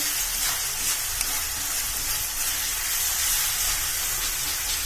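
Masala frying in oil in a pan for a bottle gourd and chickpea curry, a loud, steady sizzle and crackle that stays constant from start to end, with no talk.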